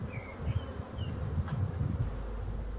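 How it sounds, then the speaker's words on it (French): Soft, steady buzzing of many calm black honey bees around a hive, low and droning, with a few brief higher whines from bees flying close by. "Les abeilles sont très calmes pour de l'abeille noire."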